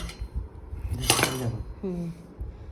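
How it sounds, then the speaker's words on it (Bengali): Clattering of a metal tiffin box as it is pried open and its containers knocked about, a bright burst of rattles mid-clip followed by lighter clinks, with voices talking at a dining table. "এরা টিফিনটা খুলতে পারছে না"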